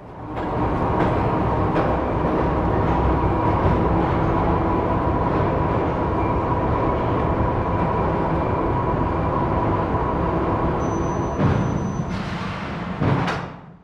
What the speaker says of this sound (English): Now you can see a train of shuttle cars moving from the ore loading station to the rotary car dumper bin